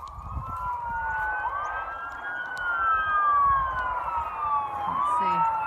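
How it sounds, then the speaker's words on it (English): An ambulance siren wails steadily in slow rising and falling sweeps, passing outdoors on a rural homestead, moderately loud throughout with low rumble beneath. "Oh, ambulance."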